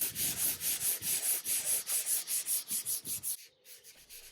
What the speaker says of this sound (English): I gave the veneer one more sanding with 180 grit